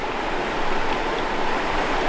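The Vire river flowing past a diverted channel near a mill, a steady close rushing wash of water with no voices.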